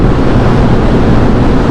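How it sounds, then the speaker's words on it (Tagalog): Strong wind buffets the microphone on a long, straight bypass road in Quezon, a loud, continuous low roar of rushing air with no break. "Lakas ng hangin."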